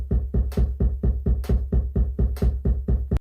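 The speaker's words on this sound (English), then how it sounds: "if we pressed all of them and then hit play, it would sound like this with the click." 808-style sampler loop of sixteenth notes played with a metronome click, a fast, even run of short punchy low thumps, with brighter accent clicks falling at regular intervals, close and alone.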